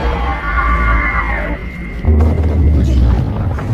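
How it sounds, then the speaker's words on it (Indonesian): The Griever monster from The Maze Runner film lets out a loud, harsh scream. Rumbling and crowd-like shouting sit underneath, and the low roar swells partway through. "Terdengar sayup-sayup suara pergeseran posisi labirin dengan dibarengi teriakan Griever yang sedang kelaparan."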